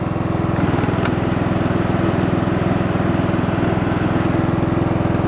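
An old lawn tractor's engine and transmission run nearby in a steady, loud, evenly pulsing putter that holds throughout with no voices.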